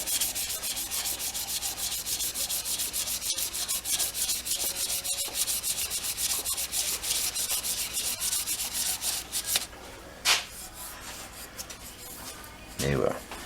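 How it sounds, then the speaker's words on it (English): Sandpaper rubbed in long strokes along a pen blank during a CA finish, giving a rapid rhythmic rasping close up that stops near the end with a few light knocks. "and go long range sanding."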